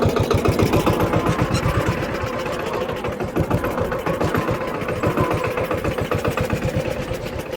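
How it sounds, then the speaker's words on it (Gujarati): A farm tractor idles with a steady, rapid low-pitched chugging pulse, close and loud, its rhythm holding even throughout with faint mechanical rattle above. "આ છે આપણું ટ્રેક્ટર"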